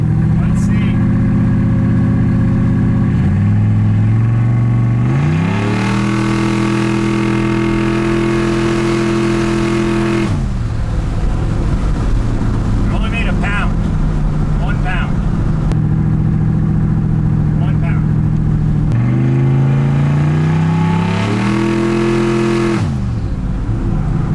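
A turbocharged LS-powered street truck with an exhaust leak at the header V-band revs hard through several loud, full-throttle pulls, the pitch climbing and dropping between bursts, close and dominant throughout.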